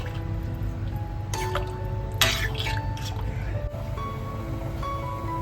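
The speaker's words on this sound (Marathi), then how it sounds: "रस्त्यासाठी अजून आपल्याला पाणी लागणार आहे तर याच्यामध्ये एक ग्लास पाणी घालून घेतोय आपण" A glass of water pours into a pan of prawn curry, a sudden splashing gush midway that trails off into drips and gurgles over a steady low background hum.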